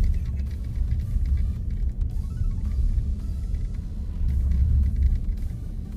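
A 2021 Ford Territory Titanium Plus crossover pulls forward from auto hold under light throttle, a steady low engine and road rumble heard from inside the cabin, swelling slightly toward the end.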